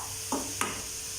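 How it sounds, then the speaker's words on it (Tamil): Cabbage poriyal with grated coconut stirred in a frying pan: a quiet background sizzle with two brief scraping stir strokes close by. "சேர்த்து லைட்டாக மிக்ஸ் பண்ணிக்கோங்க."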